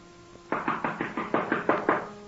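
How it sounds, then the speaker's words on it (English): Eight firm, evenly spaced knocks on a door in a radio drama, loud and close with nothing else heard around them. "Answer your door, Ziegler"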